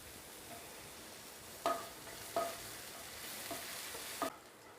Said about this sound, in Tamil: இது நல்லா வதங்கட்டும்.